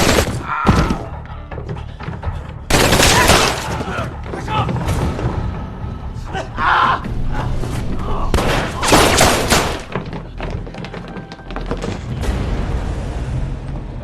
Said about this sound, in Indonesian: namun tiba-tiba dari belakang Zihao datang yang lalu memberondongi mereka semua dengan tembakan peluru